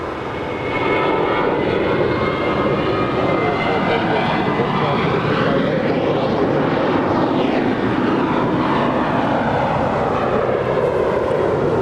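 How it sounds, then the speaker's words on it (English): An American Airlines Airbus A321 jet departs LAX at night, a loud, sustained engine roar that swells in the first second and then holds steady and close for the rest. "That is American Airlines Flight 650 departing to Phoenix."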